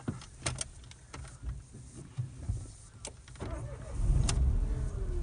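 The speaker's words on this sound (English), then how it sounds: "we are inside the Renault Sandero now, and let's see how it starts" Inside a Renault Sandero with a 900cc engine, faint clicks and key-like clatter come first, then the engine cranks and catches into a low rumbling idle that grows louder.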